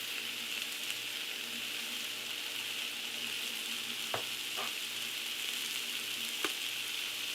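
Shrimp sizzle steadily in a skillet with sweet potato and kale, a constant close frying hiss with a few sharp clicks of utensils, no voices.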